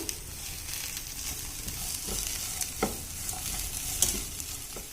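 Samosa filling sizzles with spices and green peas in a pan, a soft continuous frying hiss with occasional light clinks and scrapes of a stirring spoon.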